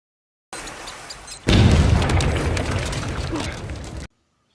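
A sudden loud boom erupts after a quieter lead-in, then a long rumbling blast decays for a couple of seconds before cutting off.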